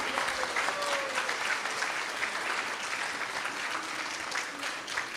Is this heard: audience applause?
yes